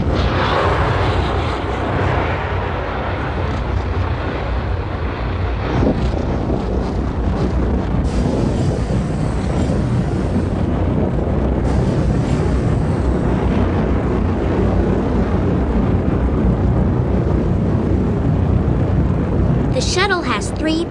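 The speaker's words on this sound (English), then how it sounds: "powerful rockets, the main rocket engine, and 2 solid rocket boosters on the sides." Space shuttle launch roaring with the main rocket engine and two solid rocket boosters, a loud, continuous broadband rumble that stays steady throughout, with wind buffeting on the microphone.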